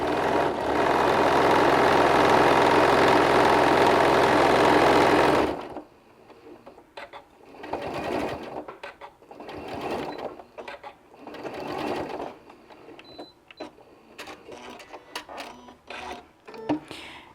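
A domestic sewing machine stitches through fabric and batting, whirring loudly and continuously at first, then stopping for a quieter stretch of short bursts, handling clicks and small mechanical noises.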